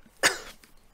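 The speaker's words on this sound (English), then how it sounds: "Took a drink of tea and then a little bit of a coughing fit." A single sharp, close cough bursts out during a tea-drinking coughing fit, then fades into quiet.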